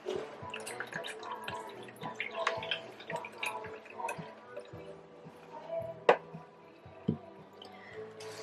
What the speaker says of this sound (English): And just let all the water strain out of it.